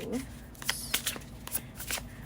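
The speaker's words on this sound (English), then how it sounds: "Now I'm going to shuffle and pick one card per month" A newly gifted deck of cards is shuffled by hand for a pick-a-card reading, giving a run of close, crisp riffling and flicking bursts of papery rustle.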